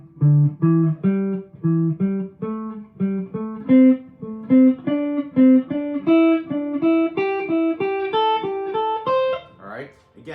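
A repeating three-note pentatonic guitar lick cycles steadily upward in even, clearly picked notes, played alone at close range with a short noisy scrape at the very end.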